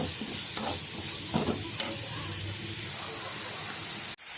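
Steady sizzling of tomatoes and vegetables sautéing in a hot pan, with occasional scrapes of stirring and a sharp clatter near the end.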